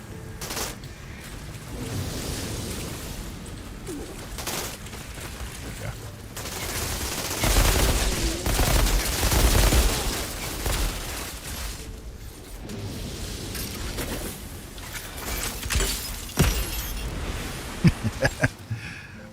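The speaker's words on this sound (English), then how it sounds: "Shotgun." Shotgun blasts in the sci-fi shooter video game Outriders, several heavy booming shots spread across a long stretch of battle noise and explosions, loud and close, with a voice talking between them.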